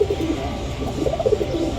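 A pair of domestic pigeons coos repeatedly from a nesting shelf in an enclosure, a soft low burbling that rises in short warbling phrases over a steady background hum, with no voices.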